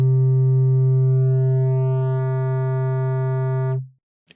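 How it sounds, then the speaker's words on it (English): A loud synthesizer sine-wave sub bass note with distortion sustains for nearly four seconds, rich stacked harmonics buzzing above the deep fundamental and growing brighter midway, then it fades out and a tiny click follows. "We can add harmonics with distortion"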